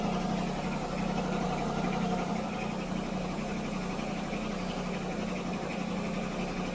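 An engine runs with its air filter breather removed and sounds loud, raw and rough like a demolition derby stock car. The idle is a constant, steady rumble close by, and no one speaks.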